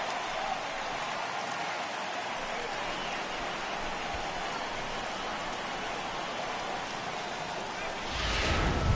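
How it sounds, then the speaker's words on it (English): Rain falls steadily with a constant hiss during a Springfield Cardinals minor-league baseball game against the Rockhounds, a soft wash of noise that swells slightly near the end. "And Dan, when it comes to pitching in the rain, what changes?"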